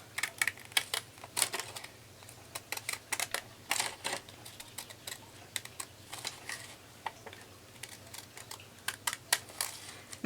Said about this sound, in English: And you just take your scissors and round it off.